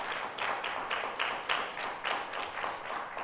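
A church congregation gives a round of applause during a Parents' Day Sunday service, with a steady wash of many hands clapping at moderate volume from a moderate distance.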